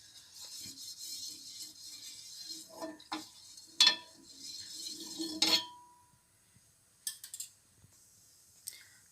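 Pan and utensils clinking in a home kitchen while oil goes into the pan before frying fish for a pepper fish fry: scattered sharp metallic clinks and taps, a few louder knocks, with quiet gaps between them.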